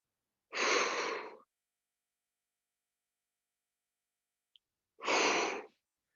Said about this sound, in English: Big exhales.